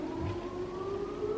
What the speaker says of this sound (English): On the 3rd of every new month at 3 o'clock, they test the alarms.